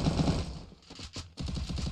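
Bursts of rapid video game gunfire crackle in quick rattling volleys during a 4v4 match, with a short lull before another fast string of shots.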